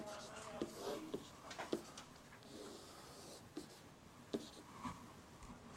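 A pen sketches a quick graph of an x-cubed curve on paper, with faint, quiet scratching strokes and a few light taps spread across a near, soft scribble.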